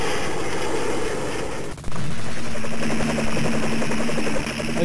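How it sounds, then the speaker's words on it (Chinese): Chaotic gunfire and droning engine noise from a video game battle with a semi-automatic machine gun and a bomber plane, dense and loud, with a brief dropout before steady rapid firing resumes. "我捡到了半自动的机枪，所以刚才轰炸机被我打碎了一个"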